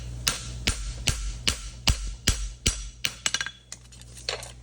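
Hammer blows flatten metal on an anvil, a series of sharp ringing strikes roughly every half second, then quicker, more irregular taps toward the end, close and loud.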